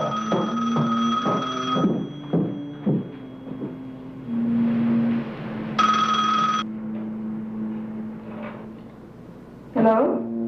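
A telephone rings at home in repeated electronic bursts with pauses between them, loud and close, over a low background rumble.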